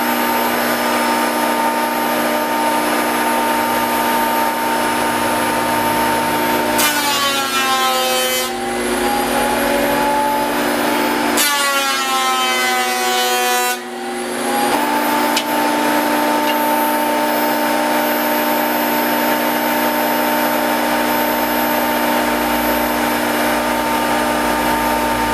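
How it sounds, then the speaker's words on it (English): An electric planer shaves down the thicker side of a board for a wooden fruit and vegetable crate. The tool runs as a loud, steady whine, with two rising bursts where the blade bites into the wood, and no voices. "I don't know if you can hear it over that planer"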